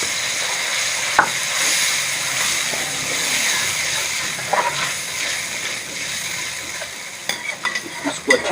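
A paste of onion, garlic and dried coriander sizzles loudly in a pan with softened tomatoes for a homemade Sindhi chicken curry, with a steady hiss, occasional stirring scrapes and sharp spatter pops near the close.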